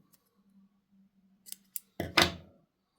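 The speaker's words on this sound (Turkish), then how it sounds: "Bir zincir yaptıktan sonra bir miktar ip bırakarak ipi keselim." Scissors snipping through crochet yarn on a small daisy ring project, a couple of light metallic clicks followed by one crisp, close cutting snip against near silence.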